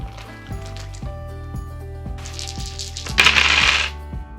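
Dice for a Back to the Future Funkoverse Strategy Game are handled and rattle in a short, brighter clatter near the end, mostly beneath steady rhythmic background music.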